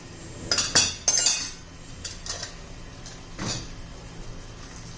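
Spinach rice (palak pulao) mixed in a metal pot, a few sharp scraping clinks of a spoon against the pot early on, then lighter intermittent stirring knocks, close and with no one talking.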